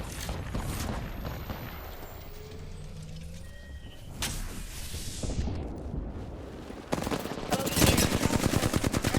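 Gunfire in an Apex Legends competitive match comes as scattered shots and a whooshing effect, followed by a dense, rapid automatic burst near the end, all fairly loud with no voices.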